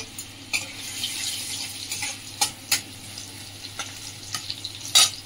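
Crushed garlic frying in white oil in a kadai gives a soft continuous sizzle, broken by several sharp clicks and scrapes of a spoon against the metal pan.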